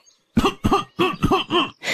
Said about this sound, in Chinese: 突然咳嗽不止